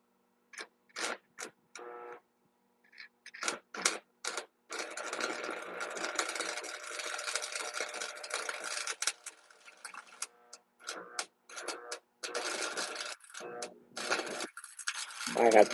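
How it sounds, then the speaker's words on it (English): Welding blades on in a workshop, a harsh crackling buzz that starts and stops in short bursts, then runs steadily for several seconds before breaking up again, close and fairly loud. "now we're going to do welding this way."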